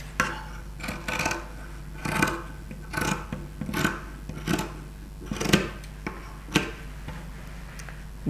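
Scissors cutting cape fabric, a series of about eight rasping snips at an uneven rhythm, close and moderately loud, with no talking.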